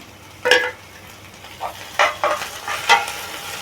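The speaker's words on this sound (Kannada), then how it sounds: "ಇದನ್ನು ಸ್ವಲ್ಪ ಒಂದು ನಿಮಿಷ ಇದನ್ನ ಫ್ರೈ ಮಾಡಬೇಕು" Chopped onion, green chilli and coriander leaves frying in a pan for bun dosa, with a few separate bursts of sizzling and stirring scrapes spaced over the moment, fairly close with no voices.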